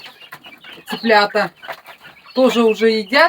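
Chickens clucking in a farm coop on a cold winter day, clucks mixed in with a woman's nearby speech over short stretches.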